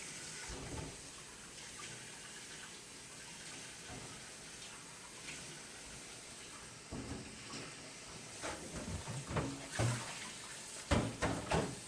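Water from a tap runs softly in the background while peppers are rinsed and handled, with clatters and splashes growing busier toward the end.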